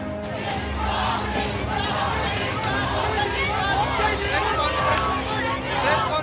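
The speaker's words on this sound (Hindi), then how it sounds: "इस रोड शो के दौरान हर तरफ मोदी मोदी और अब की बार 400 पार का शोर सुनाई दे रहा था" A large crowd along PM Modi's road show route in Bhopal roars and chants, a dense, loud wash of overlapping voices and shouts rising and falling without pause.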